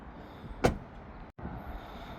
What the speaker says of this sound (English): So let's shut this door